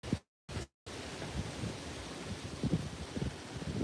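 Wind on a cool, windy day outdoors on a walk by a river, a low rumbling buffet and rustle against the microphone, steady and fairly faint, after two brief dropouts at the start.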